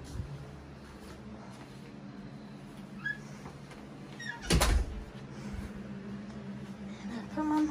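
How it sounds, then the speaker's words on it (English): An office door is shut with a single solid thump partway through, heard up close against a quiet room hum and faint background movement. "I'm gonna shut this door."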